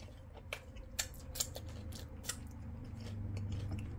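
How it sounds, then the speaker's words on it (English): A knife or scissors cuts open a frozen, thickly breaded Costco mandarin orange chicken piece, making a few crisp crunchy snips and cracks up close over a low background hum. "I'm gonna cut a frozen one open so I can show you guys what it looks like inside."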